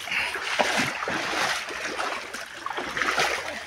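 Water splashing and rushing as someone wades through a small sandy stream beside a sandbag dam, a steady broadband wash with irregular sloshes and no talking.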